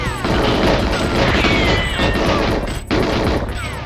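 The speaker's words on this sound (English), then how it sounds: "Here I learned that the lockers comedically explode in their shot" Lockers exploding under gunfire in GoldenEye 007, a loud, dense barrage of crashing impacts and rapid shots packed together, harsh and continuous, with a brief gap before the clatter resumes.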